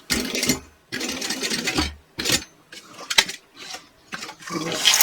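Sewing machine stitching a bag seam in short close bursts of rapid whirring, separated by pauses with small handling noises.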